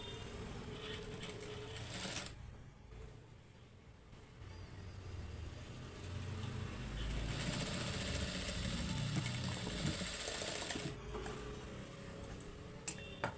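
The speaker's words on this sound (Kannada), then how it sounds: "ಈಗ ಇದನ್ನು ಸ್ಟಿಚ್ ಮಾಡೋಣ." A sewing machine stitches blouse piping in short runs of quiet rhythmic mechanical whirring, pausing briefly between runs, with soft clicks near the end.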